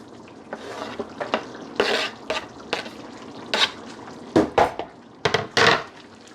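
Sweet pepper and onion being stirred in a pot for Jamaican brown stew beef, a string of close, loud scraping and clattering strokes of a spoon against the pot over a faint sizzle, with no voices.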